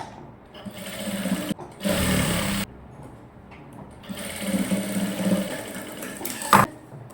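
Electric sewing machine stitching the shoulder seam of a short gown, front and back panels joined, whirring in steady bursts with pauses between runs, close and fairly loud with no talk.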